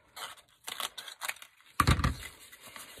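Scissors snip through wreath material, likely Dollar Tree wreath supplies, giving a few quick close cuts and rustles, then a louder crinkling handling noise near the end.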